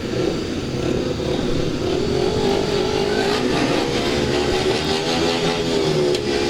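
Speedway motorcycles rev furiously on the start grid at a Sheffield Tigers versus Ipswich Witches meeting, loud sustained engine roar with rising and falling revs, fairly close.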